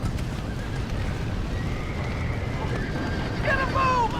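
In Red Dead Redemption, horses whinny near the end of the stretch, a sharp rising neigh breaking through over a steady background of rumbling noise and game ambience.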